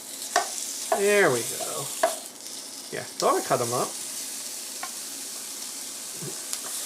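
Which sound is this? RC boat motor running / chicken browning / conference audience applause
chicken browning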